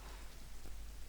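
Steady rain falls in the Ice and Fire video game, a faint, even patter and hiss with no distinct drops or talk across a brief stretch.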